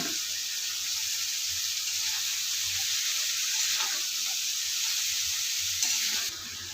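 Cut cabbage and potatoes hitting hot oil in a pan and sizzling steadily for a potato-cabbage fish chorchori, with a brief clatter of stirring partway through and no talk.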